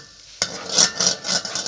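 A utensil scrapes and swishes around a pot of boiling curd for Kashmiri mutton yakhni in quick rhythmic strokes, with a soft bubbling sizzle underneath, close and moderately loud.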